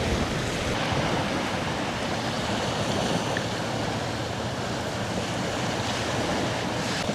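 Steady broadband rushing of a stream after rain, continuous and fairly close, with no voices.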